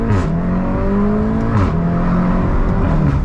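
A 400hp VW Golf R engine launching hard, revving loud and close with rising harmonic sweeps, a brief drop as it shifts around the middle, then climbing again, and a steady roar throughout.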